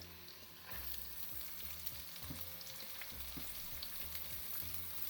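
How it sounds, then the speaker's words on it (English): Chopped onions hit a pan for palak paneer and fry with a sudden onset of hissing sizzle that holds steady and faint, with a few soft stirring knocks. "Now let the onions fry to a very, very slight golden"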